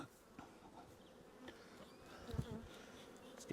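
Honey bees buzz steadily at an opened hive, a soft continuous drone close by with faint bumps and handling noise underneath.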